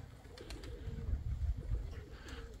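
Pigeons in a loft coo in low, soft bursts that rise and fall, with faint wingbeats and rustling, all fairly close over a steady murmur.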